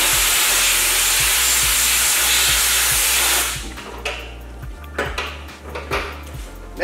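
A SATAjet X 5500 spray gun being blown dry with compressed air after a solvent rinse, a loud close hiss for a few seconds, then short bursts and clinks of metal handling.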